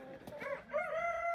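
Roosters crow in a pen at a resort poultry farm, two harmonic cock-a-doodle-doo calls in quick succession, the second longer and louder, fairly close with no talk.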